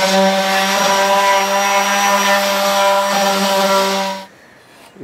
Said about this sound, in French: on va poncer la palette et puis boucher tous les trous des clous